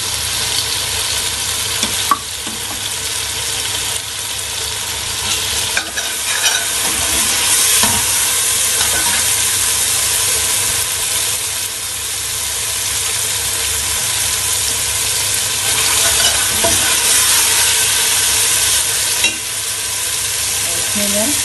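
Green chillies for khichdi frying in a pan make a loud, steady sizzle with a few faint scraping knocks of stirring, unbroken and close, with no one speaking over it.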